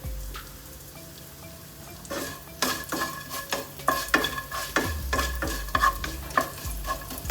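Curry leaves hit hot oil with mustard seeds, popping and sizzling in sharp crackling bursts while a utensil stirs and scrapes the pan, growing busier after a quiet start.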